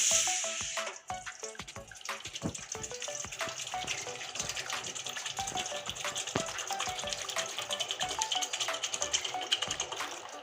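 Water is poured into a cooking pot to boil soybeans, with a run of close, rapid clattering and splashing ticks that holds steady throughout, without speech.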